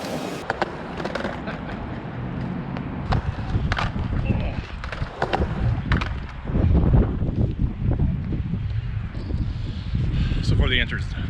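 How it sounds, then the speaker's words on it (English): Strong gusts of around 20 miles per hour roar across an outdoor skate spot, with a constant low rumble of wind on the microphone. A person talks and skateboard wheels roll and clack over the top. "it's super windy today, like 20-mile-an-hour winds"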